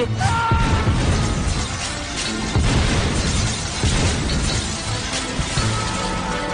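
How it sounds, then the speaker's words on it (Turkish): Dense, continuous roar of bomb blasts and crashing debris in a minefield, with sharp impacts throughout, loud and chaotic. "Kurtarma operasyonunda bombalar patladı."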